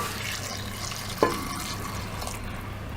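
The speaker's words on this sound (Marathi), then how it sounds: "तर आता चांगलं परतवून झाल्यावर यामध्ये गरम करून घेतलेलं पाणी घालायचं।" Hot water poured into sautéed mutton for a Khandeshi black-masala mutton rassa makes a steady, close rushing hiss with sizzling, broken by one sharp clink of a utensil midway.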